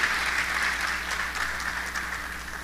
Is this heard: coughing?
no